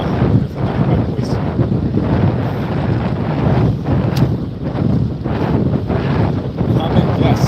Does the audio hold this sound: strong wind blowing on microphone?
yes